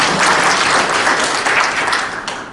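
A crowd at a Korean agricultural policy forum's founding ceremony gives a vigorous round of applause. The clapping is dense and loud and runs steadily, easing off slightly at the end.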